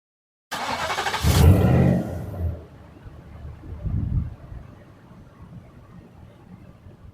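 Nissan Titan pickup engine after a starter replacement cranks briefly and catches, a loud burst settling quickly into a low steady idle with a small rev swell partway through, heard close with no voices.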